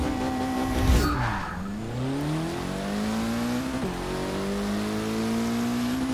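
A 2006 Mitsubishi Lancer Evo IX MR in Forza 6 drives a track on cold tires, its engine revving up through gears with a drop and brief tire noise, then climbing steadily again, loud and close.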